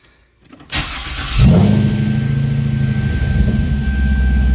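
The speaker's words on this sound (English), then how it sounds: "And look at that, car starts right up." A Chevrolet Corvette C6 engine cranks briefly, catches with a loud roar, then settles into a steady, close, rumbling idle with a faint high whine running through it.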